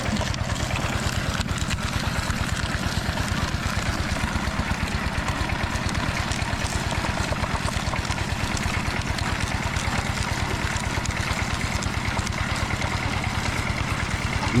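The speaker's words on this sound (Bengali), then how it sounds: "ইঞ্জিন চালু করার পর আখগুলোকে সারিবদ্ধভাবে মেশিনের রোলারগুলোর ভিতর দিয়ে প্রবেশ করানো হয়।" An engine-driven sugarcane crushing machine with rollers runs steadily, its motor thumping in a fast, even rhythm, loud and close throughout with no talk.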